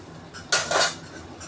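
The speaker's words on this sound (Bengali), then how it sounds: "আমি মশলাটা কষে নিতেছি এভাবে।" Hilsa fish masala stir-fried in a pan, a short burst of metal utensil scraping and clinking against the pan, close up over a low steady background hum, with no talking.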